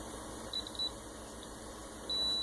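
A continuity tester checks a short homemade drop cord, giving faint thin electronic beeps, a couple of brief chirps early on and then a longer steady tone near the end, over quiet room hum.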